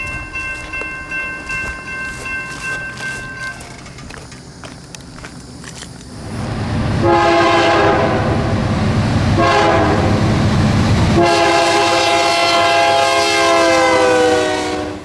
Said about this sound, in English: it took a lot longer for the 99 car train to pick up speed than it did for me